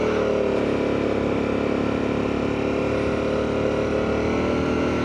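An engine strains at full throttle in first gear on a vehicle said to have lost its power, giving a loud, steady, buzzing drone close by with no break and no talk.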